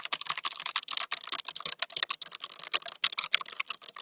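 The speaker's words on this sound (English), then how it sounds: "clicky and loud is the descriptor of these keys on their manufacturer's website" Rapid, continuous typing on a mechanical keyboard with loud, clicky swappable keys. Dense, close-up clacking keystrokes come one after another with no talking.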